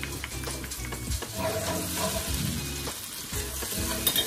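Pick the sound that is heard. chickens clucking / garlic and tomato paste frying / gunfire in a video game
garlic and tomato paste frying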